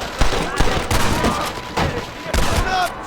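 Gunshots ring out in a Red Dead Redemption shootout, a series of loud, sharp cracks at irregular intervals. A voice is heard between the shots.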